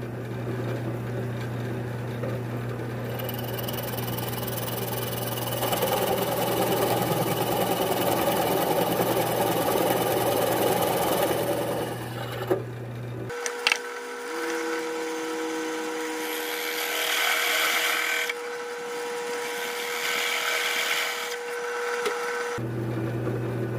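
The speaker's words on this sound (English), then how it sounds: "I'm going to just go ahead and drill the holes." Power drill boring tuner holes through the wooden headstock of a three-string cigar box guitar, a steady whining motor under load running close and loud, then stopping abruptly before a lighter spin resumes for a few seconds.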